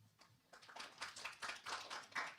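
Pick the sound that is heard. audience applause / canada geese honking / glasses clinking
audience applause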